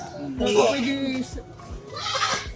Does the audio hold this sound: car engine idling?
no